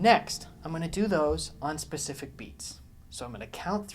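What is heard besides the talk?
No distinct noise like a dog, phone or traffic.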